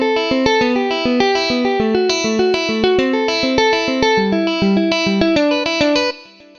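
Electric guitar notes ring out through ambient effects with chorus, distortion and reverb, forming a steady, loud stream of layered tones that sustain continuously before tapering off at the end.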